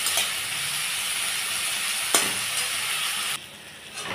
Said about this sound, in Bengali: দিয়ে আমি ভালো করে এটাকে নাড়বো এবং ভাজা ভাজা যাতে হয় সেই হিসাবেই আমি নাড়বো